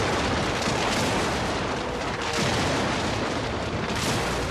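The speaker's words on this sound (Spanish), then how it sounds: "Wellington dio orden de abrir fuego" Artillery cannon fire at the Battle of Waterloo, heard as a dense, continuous roar of booming blasts and rumbling gunfire that stays loud and unbroken throughout.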